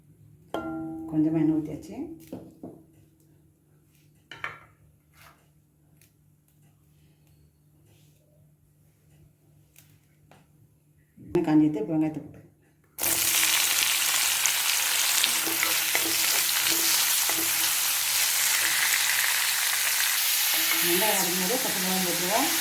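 Quiet kitchen sounds and brief talk give way to a sudden loud, hissing sizzle as oil hits a hot kadai on the stove and keeps frying steadily, with a voice speaking again near the end.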